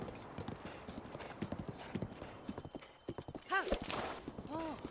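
Rhythmic clip-clop of horse hooves in Zelda: Breath of the Wild, quick close footfalls with a brief whinny near the end, mixed with game sounds and a speaking voice.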